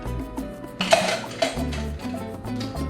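White sugar spooned into a cocktail glass for a mojito, a few light clinks and scrapes of spoon on glass over background music.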